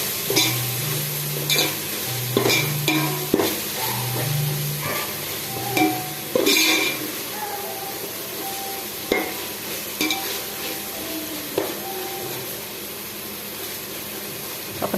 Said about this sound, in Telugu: ఇప్పుడు ఒకసారి అంతా బాగా కలిపేద్దాం